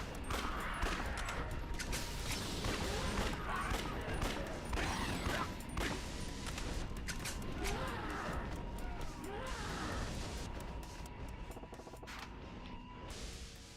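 Gunfire in the zombie action game Yakuza: Dead Souls: steady, rapid shots and clattering impacts running throughout at a quiet level, with game noise and occasional muffled voices mixed in.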